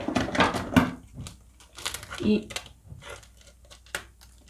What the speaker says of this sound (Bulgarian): Пак с ножица отваряме това